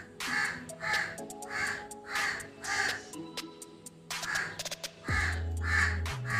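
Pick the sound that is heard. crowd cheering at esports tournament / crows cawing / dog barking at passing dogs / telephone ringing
crows cawing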